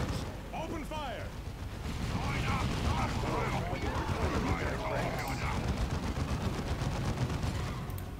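Dense battle gunfire from tactical space marines in the real-time strategy game Dawn of War II, with a continuous clatter of shots and explosions while voices speak over the din.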